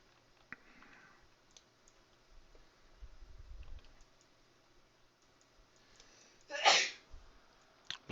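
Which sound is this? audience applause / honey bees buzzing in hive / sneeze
sneeze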